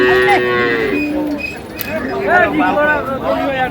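Close, loud mooing from a dairy cow and calf at a cattle market, several drawn-out calls overlapping, with a faint murmur of people in the background.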